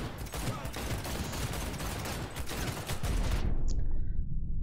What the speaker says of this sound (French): Tire ennemi !